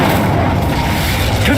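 Incendio, the fire spell in Hogwarts Legacy, bursts out as a dense, steady roaring whoosh with a deep booming undertone. It lasts under two seconds and stays loud throughout.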